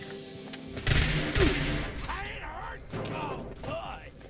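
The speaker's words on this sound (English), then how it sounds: "his head actually banged against the thing and it caused the actual drum to make the noise" A drum struck by a video game character's head inside Skyline Valley, giving two loud, booming thuds close together near the start, followed by quieter mechanical clatter and ambient game sounds.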